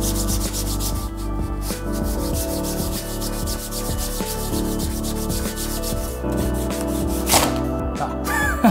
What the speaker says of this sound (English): Keep buffing it.